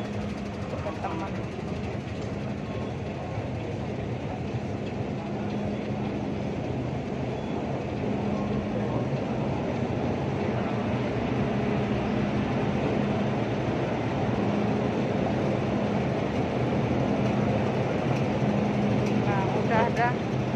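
A train rumbles steadily nearby during a trip to Lamtin, giving a continuous low drone and rolling noise with a faint hum throughout, while people talk over it.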